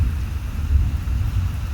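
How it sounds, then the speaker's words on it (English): Steady rain in Harare with a low, continuous rumble of thunder, heard outdoors without any voices. "It's raining outside, eh?"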